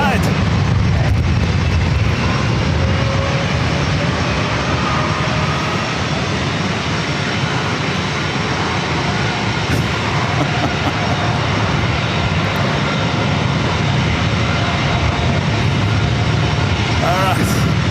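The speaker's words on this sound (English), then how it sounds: "United's Retro A320 heading to Chicago O'Hare" A United Airlines Airbus A320 in retro livery takes off from runway 27 at San Diego airport, its broadband jet roar loud and steady throughout with wind buffeting the microphone.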